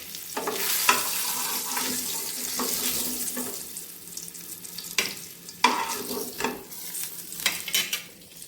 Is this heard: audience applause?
no